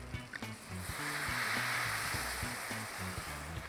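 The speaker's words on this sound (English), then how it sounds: "we're gonna deglaze with a little bit of this white wine" White wine hits a hot pan after shrimp have been sautéed, a steady close sizzle and hiss with faint stirring scrapes underneath.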